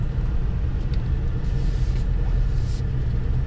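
A 2021 Ford F-150 Black Widow pickup rolls slowly through a parking lot, heard from the cabin as a steady low road and engine rumble with faint hiss, no talk.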